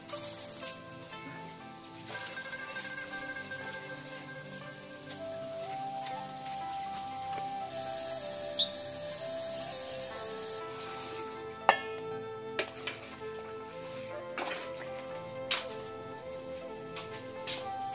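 Duck pieces stir-frying in pork lard in a wok for beer duck, a steady close sizzle with scattered stirring clatter and spatula clicks running throughout, no talk.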